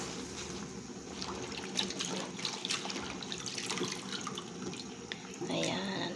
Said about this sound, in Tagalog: kailangan ibabad sa tubig para maalis yung dumi